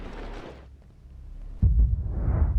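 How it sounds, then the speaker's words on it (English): A sun implodes in the video game Outer Wilds, a low rumbling throb that swells into a deep, booming surge of noise in the second half. "That is the sound of the sun imploding"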